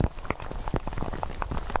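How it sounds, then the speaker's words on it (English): Light rain pattering on a surface on the eastern plains during a storm-chasing day, a steady crackling hiss with scattered louder drops throughout and no voices. "So much so that pleasant little rain noise"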